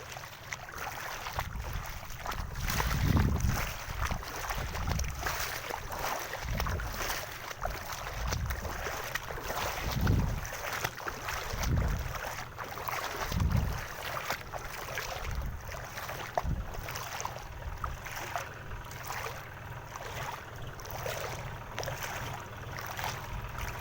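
After heavy rain, a tractor comes along a flooded road, its engine a low, uneven rumble with periodic surges as it churns through water, heard against steady wind buffeting the microphone.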